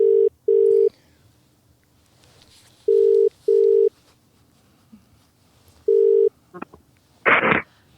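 A telephone ringback tone on a call pulses in three double-ring bursts, evenly spaced over a quiet line, followed by a brief clatter and a short burst of noise as the call connects.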